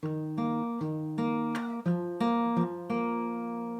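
Clean, ringing guitar chords strummed one after another at a steady pace, each sustaining into the next, moderately soft with no voices.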